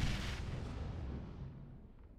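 A booming rumble of gunfire or a blast in a multiplayer shooter game, heavy and reverberant, fading away over a couple of seconds.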